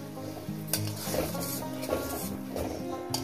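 Masala with a pinch of sugar is sautéed in a pan for a soybean curry, with a soft sizzle and light spoon scrapes against the pot recurring every second or so.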